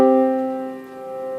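Two sustained pitched tones sounding together a fifth apart, steady and clear with several bright overtones, held alone for just over a second.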